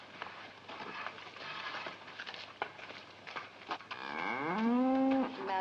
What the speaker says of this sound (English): we look at this big cow